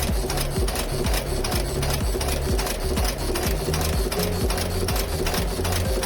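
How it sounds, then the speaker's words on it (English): A screw heading machine runs at a steady clip, loud rhythmic mechanical thumps repeating several times a second with a constant industrial clatter and hum beneath, close and without voices. "Making screw products. Step 1. Through the screw heading machine."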